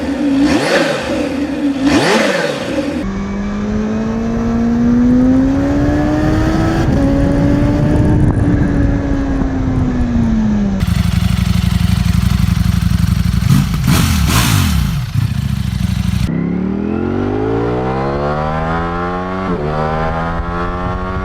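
Two naked sport motorcycles, a Kawasaki ZH2 and a Ducati Streetfighter V4, rev their exhausts in turn, with loud, close blips and sustained rising and falling engine pitch sweeps, no talking.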